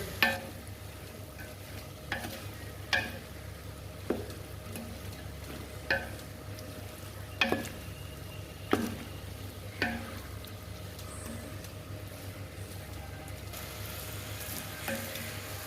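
Whole spices frying in a pan for a chilli-free white kurma, stirred with a steady sizzle and sharp spoon scrapes every second or so, close and moderately loud with no voices.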